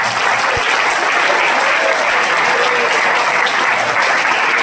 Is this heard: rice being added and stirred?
no